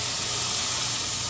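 Onions frying in a pan over a flame, a loud, close, continuous sizzling hiss with no breaks.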